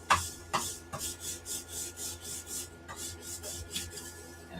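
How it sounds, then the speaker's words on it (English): A lint roller is rolled over a shirt being prepared for pressing in a craft workspace, giving a steady run of close, rhythmic sticky rasping strokes with no talking. "I'm lint rolling and then we're pre-pressing it."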